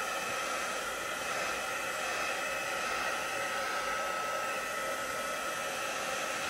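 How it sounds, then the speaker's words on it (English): A standard Dovecraft heat tool blowing to dry craft card, a steady loud hissing whoosh of hot air that holds constant throughout. "I'm going to dry this with my heat tool, which is a standard Dovecraft one"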